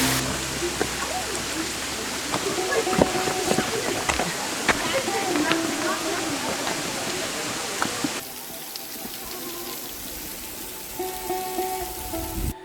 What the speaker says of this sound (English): The water coming down right into there.